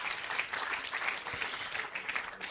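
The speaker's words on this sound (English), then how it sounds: "Can we give them another round of applause?" Sustained audience applause at a university faculty dean's awards ceremony, dense steady clapping filling the room throughout, with no talk over it.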